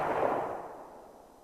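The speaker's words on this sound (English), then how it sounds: "suddenly, another shot in the distance spooks the buck" One distant gunshot from a rifle out in the field, a dull boom with a long fading rumble, heard alone with no voices.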